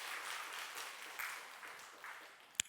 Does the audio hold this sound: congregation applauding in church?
yes